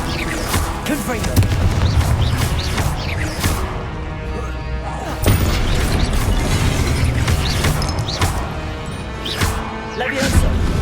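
Repeated booming spell blasts from the Confringo fire spell in Hogwarts Legacy, sharp bursts with crackling and mechanical clatter over a dense, continuous game soundscape of combat effects.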